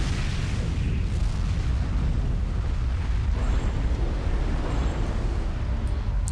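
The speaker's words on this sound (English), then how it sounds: "Nuclear missile activated." Nuclear missile detonation in the real-time strategy game Command & Conquer 3: Kane's Wrath, a loud continuous rumbling roar that stays dense and heavy for several seconds with no talk.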